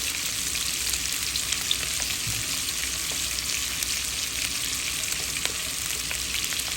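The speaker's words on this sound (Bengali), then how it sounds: "তেল দিয়ে দিলাম ভাজির জন্য, করলা ভাজির জন্য।" Bitter gourd (karela) frying in oil with sliced chilies makes a steady, close sizzle with small pops and occasional stirring clicks, without any speech.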